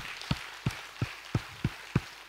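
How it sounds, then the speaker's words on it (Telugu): An audience at a PMC satellite launch event at Kanha Shanti claps together in a steady, evenly spaced rhythm, about six sharp claps over two seconds, moderately quiet with no talking. "సో అన్ని పిఎంసీలకి ఒకసారి గట్టిగా క్లాప్స్ చేసుకుందాం"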